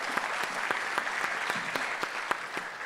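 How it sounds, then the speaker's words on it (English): Steady applause from a conference audience for a keynote speaker and panelists at an annual academic meeting, dense clapping holding at an even level throughout with a few sharper individual claps standing out. "So if you can please join me in giving a big applause to the keynote speaker and the"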